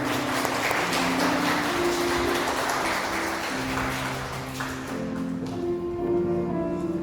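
Wedding guests applaud steadily during a ceremony, a sustained wash of clapping at moderate distance over soft background music.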